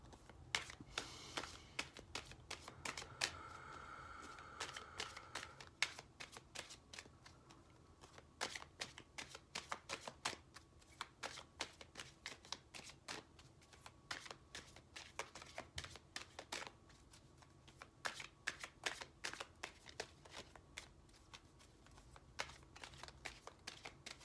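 Soul's Journey lesson cards shuffled by hand, a long run of quick crisp riffles and soft flicks, close and fairly quiet, with brief pauses between bursts.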